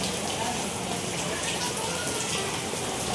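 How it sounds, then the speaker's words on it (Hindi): Heavy rain falls steadily, a dense, even hiss of water on surfaces with no breaks, with faint voices in the background. "मतलब इतनी तेज़ बारिश हो चुकी है ना"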